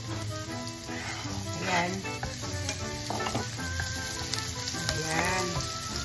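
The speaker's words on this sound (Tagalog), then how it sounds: "Ngayon, ilagay natin yung ating sibuyas." Sliced onion hits hot oil in a frying pan for a mixed-vegetable and shrimp sauté, giving a loud steady sizzle with stirring scrapes, while a voice speaks briefly over the cooking.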